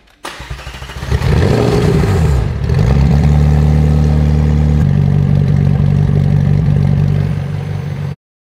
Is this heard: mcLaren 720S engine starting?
yes